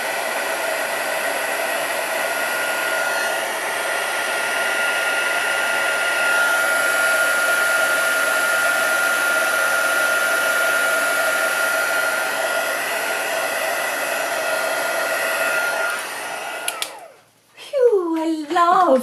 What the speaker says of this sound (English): I love heat embossing, it is such fun